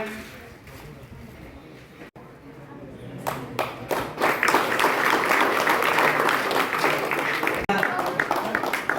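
Audience at a felicitation ceremony at a soldier training centre in Mudalagi breaks into applause: after a quiet start, clapping rises to a loud, steady round of many hands that carries on to the end.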